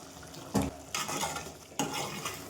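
Chicken masala is stirred in a pan over a low sizzle, with three distinct scraping strokes of a utensil against the metal spaced about a second apart.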